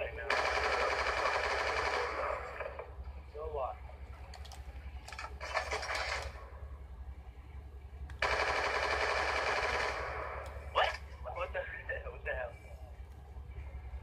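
Bursts of rapid automatic gunfire from the video game Call of Duty Black Ops 2, two long sustained volleys with shorter shots between them, loud over a steady low hum, with people talking.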